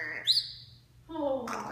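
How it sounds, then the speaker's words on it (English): A pet bird chirps close by, a high whistled call followed after a short pause by a second, brighter chirp, alone and fairly quiet. "What a bird."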